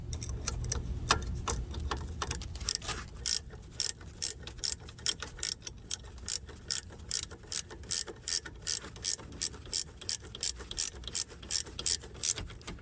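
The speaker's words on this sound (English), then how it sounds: "you can always use a ratchet to hold it in place." Ratchet tightening a brake caliper bolt on a 2012 Chrysler 300, a fast regular run of sharp metallic clicks close by, repeating steadily through most of the stretch after a brief rustle.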